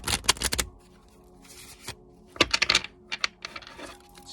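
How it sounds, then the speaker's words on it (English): Tarot cards being shuffled up close in quick, crisp bursts of riffling and flicking, separated by short quiet pauses. "Shuffle one more time."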